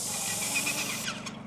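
A bargain airless paint sprayer sprays thinned paint onto an arena fence, giving a steady close hiss that cuts out after about a second.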